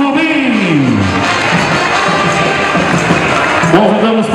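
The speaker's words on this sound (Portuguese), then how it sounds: "Acolhemos todos com a fervorosa salva de palmas nesse momento especial" A large crowd at the opening of the São João festival in Surubim cheers and applauds loudly and continuously, with a dense roar of voices and a few rising and falling shouted tones.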